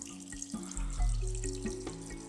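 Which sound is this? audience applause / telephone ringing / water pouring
water pouring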